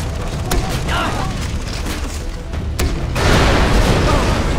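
In the video game Far Cry 3, a few sharp booms and pops sound over steady game ambience, then a louder burst of blast noise swells near the end, with someone talking over parts of it.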